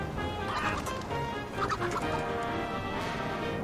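Chicken clucking loudly and continuously, with repeated agitated calls over a dense, busy background, close and steady throughout.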